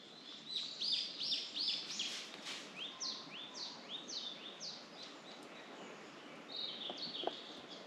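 Small birds sing on a forested trail on Seongbulsan mountain, with repeated bright chirps and short trills in quick series, fairly faint and distant in a quiet setting.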